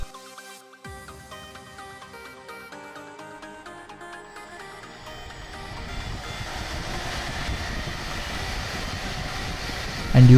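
A 3D printed electric ducted fan spins up during a thrust test, its whining tonal hum steady at first, then a broader roaring rush builds and grows louder toward the end, heard up close with no talking.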